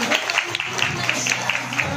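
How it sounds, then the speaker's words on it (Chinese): Guests at a Taiwanese wedding reception clap to welcome the newlyweds, a steady ripple of moderate applause with light voices mixed in. "掌声欢迎他们。"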